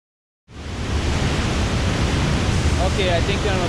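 Dense, constant rush of the Cascada La Paila waterfall in Florian, Colombia, starting suddenly and holding loud and close, with a few faint higher tones and no speech.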